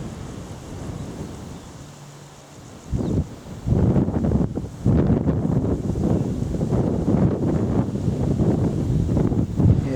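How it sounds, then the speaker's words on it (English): Strong gusting wind on a countryside walk buffets the microphone in heavy, rumbling roars that swell and persist, loud and close with no other sounds standing out. "so windy it's difficult to control the camera at the moment."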